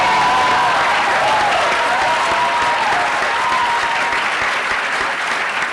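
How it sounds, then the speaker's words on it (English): A political debate audience keeps up loud, continuous applause, a dense wash of clapping with a faint tonal whine running beneath it for several seconds. "They're not many, but they're long when they applaud"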